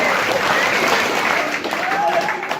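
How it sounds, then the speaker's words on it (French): An audience at a birthday celebration bursts into loud, sustained applause, dense clapping filling the room throughout. "On peut l'applaudir fort, allez-y"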